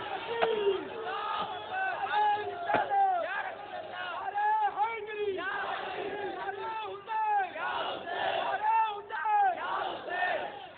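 A large crowd at a religious gathering shouts rhythmic slogans in unison. The loud massed voices surge and fall in repeated bursts of chanting throughout.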